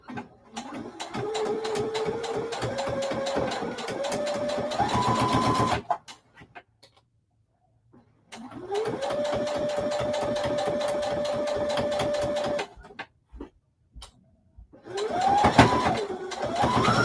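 A sewing machine stitches down appliqué on a whimsical turkey placemat, running in long steady bursts with rising speed, pausing silent for a couple of seconds, then whirring again in a second long run and a final short start.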